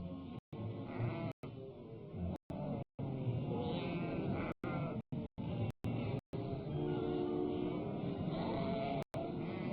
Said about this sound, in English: for the week or 10 days of the drive, sheep have the right-of-way on the highways